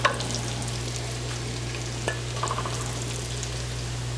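Garlic frying in a pan gives a constant close sizzle and crackle, with a few soft clinks and stirring sounds now and then and a low steady hum underneath.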